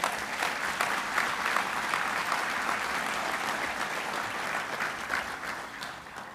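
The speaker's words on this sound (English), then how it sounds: "Give a round of applause to the faculty." Steady, dense applause fills a hall at a medical school convocation as the audience honors the faculty, continuous crowd clapping at an even level with no talk.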